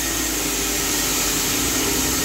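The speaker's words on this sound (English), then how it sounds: "So every time the machine comes backwards to the start position," The carriage of a Carpathian SMSA 110 sawmill travels back to its start position, a loud, steady mechanical whir and hiss running continuously without a break.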